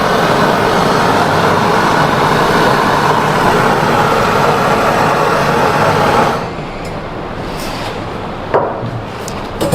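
A brazing torch flame heats a copper pipe joint during air conditioner servicing, a loud steady roaring hiss for about six seconds before it cuts off, leaving a faint background hum and a small knock.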